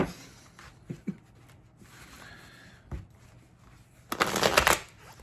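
A tarot card deck is shuffled close by, with soft scattered taps and riffles followed by a louder, brisk burst of card shuffling near the end.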